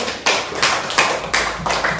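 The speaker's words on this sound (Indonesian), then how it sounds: "Sekali lagi tepuk tangan dulu." Classroom applause from a group of pupils, several bursts of clapping hands in a loose repeating rhythm, close and fairly loud, with no talking over it.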